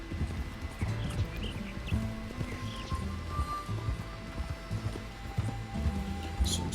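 A horse in Red Dead Redemption 2 clip-clops along at a steady walking pace, hooves thudding moderately close over a low ambient background.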